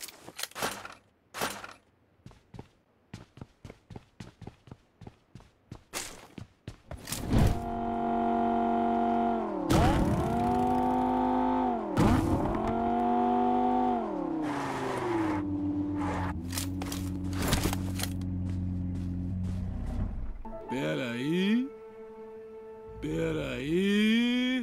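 A car in the mobile battle game PUBG Mobile revs up and accelerates, its engine tone rising and sliding in pitch over several shifts after an opening run of sharp clicks and clatter, with a faint voice now and then.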